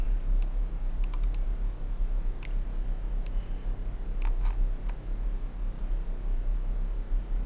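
Sharp, sparse clicks of a computer mouse during a hidden object game, several isolated taps and a quick cluster over a low steady hum, close and fairly faint.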